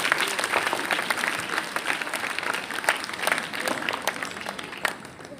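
Sustained applause from an audience at a school Haryana Day celebration, dense steady clapping filling the room for several seconds with a few sharper claps standing out, no talk over it.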